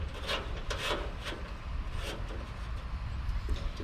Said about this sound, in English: Tightening up the screws.